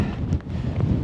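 Wind blowing at a high mountain wild camp just below a 2900 ft summit, a steady loud rumble buffeting the microphone for about a second.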